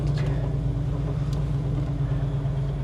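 A one-owner 1970 Plymouth Cuda with a 340 V8 and 4-speed manual, heard from inside as a steady, loud low engine rumble and road drone with no talking.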